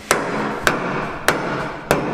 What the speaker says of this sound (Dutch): even een paar kloppen met de hamer, denk ik